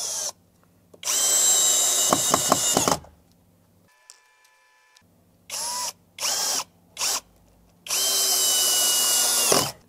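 A power drill fixes the upright of a Xiaomi clothes drying rack, running in several whirring bursts of varying length separated by pauses, close and loud, with a short chime partway through.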